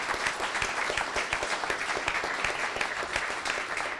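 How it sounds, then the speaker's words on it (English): Dense, steady applause from an audience honouring a faculty member at a school event, filling the whole stretch at even loudness with no voices on top. "Let's just have a round of applause for Louis Etienne Debois."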